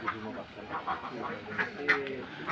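Laying ducks quacking in a group, with repeated nasal calls over a busy background and a voice talking through it.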